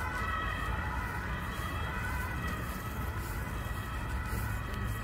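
A police car siren wails continuously along a river in Vienna, loud and steady under broad street and traffic noise, with no talk.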